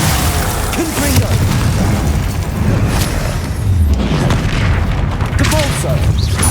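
Loud booming blast of the Confringo explosion spell in Hogwarts Legacy during a dungeon raid, dense rumbling bursts filling the clip under game combat noise, with voice-like sounds mixed in.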